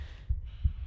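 Two low, soft heartbeat thumps in Tomb Raider Remastered, a muffled throb at an even pace beneath a faint background hum.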